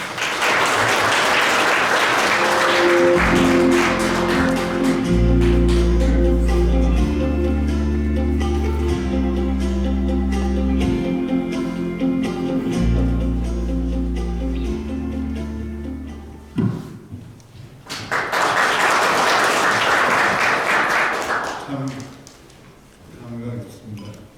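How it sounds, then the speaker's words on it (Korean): Audience applause at a memorial ceremony for the late honorary chairman Park Tae-joon, a steady dense clapping over sustained low music that fades briefly, then a fresh burst of clapping before tapering off. "모두 큰 박수를 부탁드립니다"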